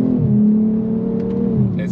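Audi RS 3 engine revving in sport automatic mode with a paddle pull, a close, loud continuous drone that climbs, holds, then drops briefly as a gear shifts.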